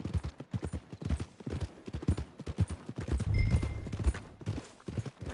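Horse hooves clip-clop at a steady walking rhythm in Red Dead Redemption 2, close and distinct, with faint ambient game sounds underneath.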